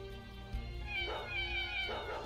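Cartoon cats meow in the video game ShellShock Live, giving two distinct drawn-out cries about a second apart over a faint background of game sounds.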